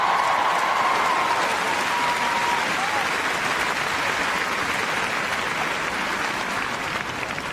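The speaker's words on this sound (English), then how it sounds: "Big cheer for Tornado!" Big arena crowd at Crufts dog show cheering and applauding for a dog's display, a dense, sustained wall of clapping and cheers that holds steady for several seconds, with a brief whistle-like tone early on.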